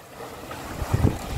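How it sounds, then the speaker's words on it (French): A sailboat under way in strong wind and choppy waves, steady wind rush on the microphone with water slapping against the hull near the end, no talk. "On se prend des bonnes vagues. On a un bon vent,"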